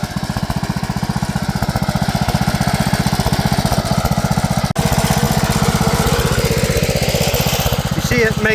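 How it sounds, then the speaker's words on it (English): A 1972 Gravely Commercial 12 tiller engine, a barn find, runs steadily with a fast, even mechanical pulsing throughout, loud and close, with a brief dip partway through. "I'm not very impressed with this tiller"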